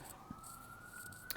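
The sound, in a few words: emergency vehicle siren in the distance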